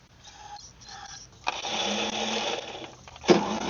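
An old engine left outside is pull started, giving a couple of rough cranking bursts, then a sustained close, noisy run with a sharp jump in loudness near the end.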